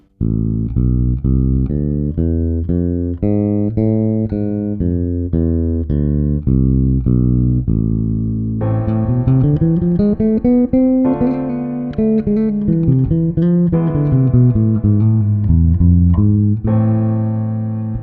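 A bass guitar plays a steady run of ascending and descending notes of the harmonic minor scale, then continues with a busier, distorted melodic line, loud and close with no talking.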